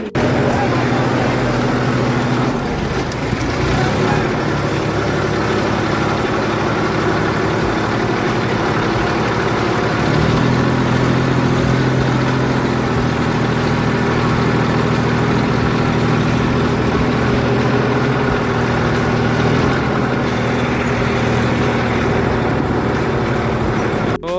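A tractor engine drones loudly and without a break while pulling another tractor stuck in mud, its low rumble rising and falling slightly, with voices talking over it.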